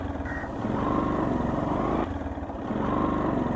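A motorcycle engine runs steadily at close range, its low rumble rising and dipping slightly with the revs, with no talk over it.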